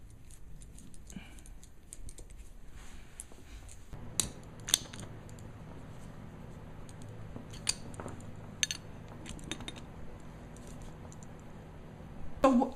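A metal coupler is screwed onto the Teflon-taped threaded end of an air hose, giving quiet, close scraping and light metallic clicks with a short louder rattle at the end.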